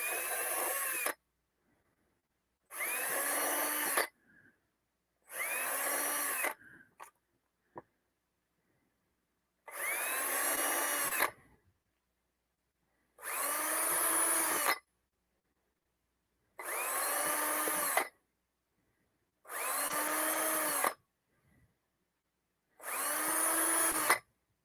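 A power drill bores into wood for a Christmas pyramid in loud, near bursts, about eight drilling runs of a second or two each separated by short silences, with no talk.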